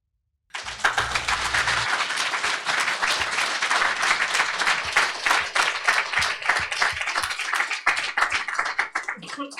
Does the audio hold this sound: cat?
no